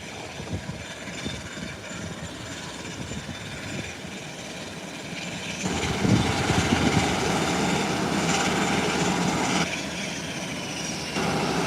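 Airplane engines at an airport drone steadily and loudly at a distance, a broad rumble that swells midway as an aircraft powers up, then eases slightly, with no talk over it.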